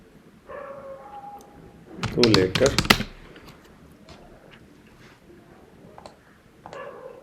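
Typing on a computer keyboard, a dense cluster of close clicks for about a second, with a few scattered taps before and after, under and between speech.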